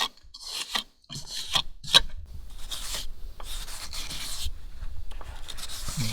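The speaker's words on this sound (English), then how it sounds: "You can take this little trowel and you can kind of work it back and forth." A small trowel scrapes chinking mortar back and forth between the logs of a smokehouse, making close, gritty rasping strokes in an irregular rhythm that build into a steady scraping.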